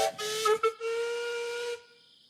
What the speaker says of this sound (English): The engines whistled happily.